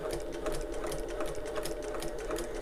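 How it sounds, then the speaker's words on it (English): Sewing machine stitching over the folded edges of a fabric panel for a wallet, a quiet, steady, rapid mechanical whir with fast needle clatter running without pause and no voices. "I'm just sewing over where those folds are"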